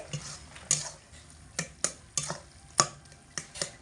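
A metal spatula stirs spiced boiled potatoes and soybean in a pan over low heat, producing a series of distinct scraping clinks against the pan at an irregular, unhurried rhythm, close and fairly clear.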